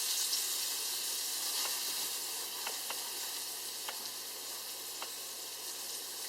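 Slices of giant puffball mushroom frying in a pan, a faint steady sizzle and hiss with a few small crackles and pops, quiet and continuous, no speech.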